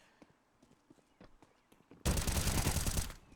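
Tech-9 gunfire in Counter-Strike on the Inferno map during a pro esports match, light footsteps and clicks followed by a sudden loud, rapid burst of automatic fire lasting about a second.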